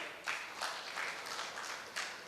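An audience applauds at a community wedding association gathering, a faint, distant patter of clapping with a few swells, steady over the short stretch.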